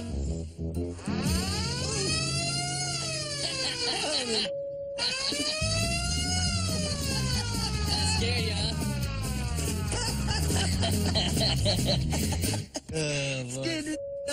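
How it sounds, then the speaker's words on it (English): Old hand-cranked siren sounded up close, a loud rising and falling wail that winds up, dips briefly near the middle, then swells again and holds before winding down. "That's a siren."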